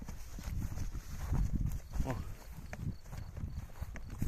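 A working horse's hooves clop in a steady walking rhythm, fairly close, with people talking over them.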